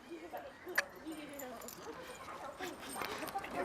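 A dog in a pet training class giving short whimpers and a sharp yip, close by, amid a trainer's steady talk and faint rustling and jangling in the room.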